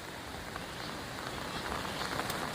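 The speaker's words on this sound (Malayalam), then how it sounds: "നല്ല കാറ്റും മഴയും." Heavy rain lashes down with gusting wind at a riverside survival campsite used for fishing, a dense, steady hiss that swells slightly toward the end, with no voices.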